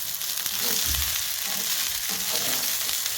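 Canned potatoes fry in a pan of curry while being stirred. A steady, close sizzle carries a bright hiss, with occasional low soft thuds and scrapes from the stirring.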